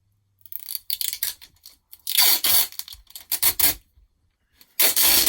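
Adhesive tape peeled off a roll while re-covering a hymn book, a series of close, dry ripping and rubbing bursts of varying length separated by short silences.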